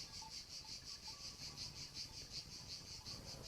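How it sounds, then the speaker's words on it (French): Cicadas chirp in a steady pulsing rhythm, soft and somewhat distant, against a quiet night background. "Quelques cigales chantaient encore."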